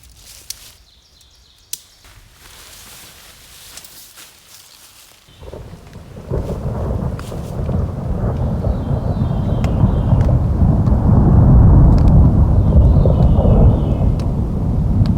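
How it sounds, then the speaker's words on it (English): Thunderstorm at night outdoors on a long trail, a few sharp cracks early, then thunder rumbling and heavy rain building into a steady, loud roar, with no talk. "Lovely storm tonight."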